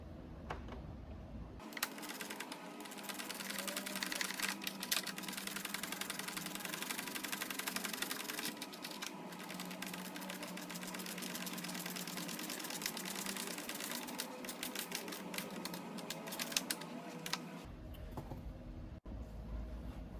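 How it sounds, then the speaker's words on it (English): Steady rapid clicking of a hand ratchet tightening an amplifier mount on a 2022-or-later BMW K1600 motorcycle, continuous and fairly close for most of the stretch, with no talking. "I'm going to start ratcheting this and probably put you on fast forward because this is going to be a while."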